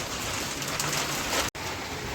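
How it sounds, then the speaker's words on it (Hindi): Large hailstones falling hard and steadily outdoors during a storm, a dense continuous clatter and hiss close by, briefly cut off for an instant near the end. "ये देखो कितने बड़े बड़े ओले से गिर रहे हैं यहाँ"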